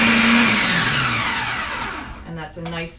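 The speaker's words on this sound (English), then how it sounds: "now we're going to pulse these herbs and spices together with the nuts" A blender whirs loudly as it pulses herbs, spices and nuts, its motor winding down and stopping partway through before a voice speaks over the quieter end.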